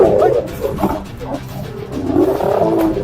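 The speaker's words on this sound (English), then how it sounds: "Everyone in this Pride of Lions is friendly," A pride of lions roars, with several deep, rumbling roars and grunts overlapping close by in a strong, uneven sequence.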